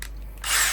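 A drill fitted with a right-angle attachment whirs up with a rising, gritty high-pitched buzz after a brief low hum, close and steady.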